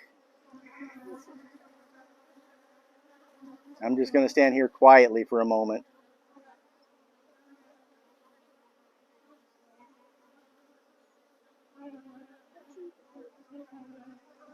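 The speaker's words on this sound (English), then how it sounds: "this is what Africanized bees are like" Africanized honey bees buzz in a low, steady drone throughout, while someone speaks briefly and quietly near the start and again at the end.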